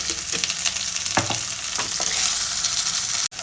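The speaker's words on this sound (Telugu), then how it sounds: "అల్లం వెల్లిగడ్డ అన్నీ వేగినాయి." Onion, green chilies and ginger-garlic paste fry steadily in a pan, a continuous close hiss with a few brief clinks and stirring scrapes, cutting off abruptly at the end.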